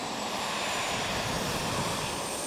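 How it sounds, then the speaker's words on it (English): The PTERA, an unmanned multi-engine research airplane, flying overhead with a steady, dense engine roar and high whine, loud and unbroken, with no voices. "It is a heavy, complex, high-speed airplane,"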